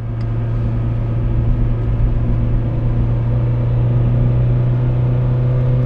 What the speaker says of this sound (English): Let off the gas for a second, and it'll upshift.